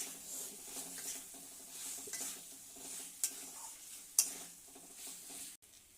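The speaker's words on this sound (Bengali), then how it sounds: "এটা দিয়ে আমি একটু কষিয়ে নেব মশলা দিয়ে আলুগুলো" Diced fried potatoes are stirred and sautéed in spice paste in a pan for a yogurt fish curry, giving soft, quiet scraping and faint sizzle, with a couple of sharp utensil clinks against the pan.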